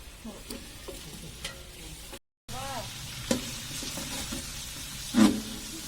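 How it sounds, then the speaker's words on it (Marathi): Onions being stirred as they fry in a chicken biryani pot, with a steady sizzle and scraping spoon strokes, a brief gap midway and a louder clatter near the end. "आपण आता बिर्याणीत कांदा टाकला आहे, त्या पुढं काय करायचं मला माहिती नाही। तर तुम्ही तुमच्या मर्जीने करू शकता। मी हलू का? मी हलतो, मी हलत राहतो"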